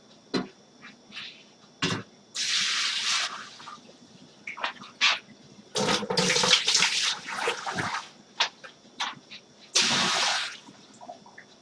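Water runs and splashes in bursts while beer brewing equipment is sanitized for an Extra Special Bitter batch, with several loud gushing spells separated by clatter and quieter gaps, fairly close.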